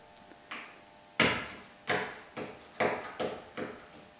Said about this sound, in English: this is attaching the cam fittings to the bulkhead